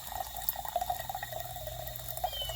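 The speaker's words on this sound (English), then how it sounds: "Putting some water in there out the hydrant." Water gushes from a hose fed by an outdoor hydrant into a container, a steady, moderately loud splashing rush with no speech.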